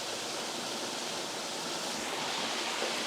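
A waterfall pours down among rocks and boulders, producing a constant broad rushing roar that stays even and unbroken, fairly soft and with no voices.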